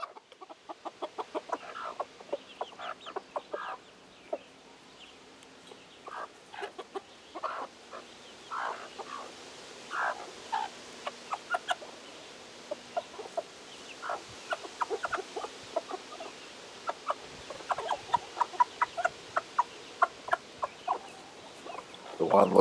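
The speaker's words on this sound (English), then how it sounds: "I'll just let the chickens talk to you." Chickens in a backyard flock in early August, clucking and murmuring with frequent short calls and squawks, fairly close and steady throughout, no talking.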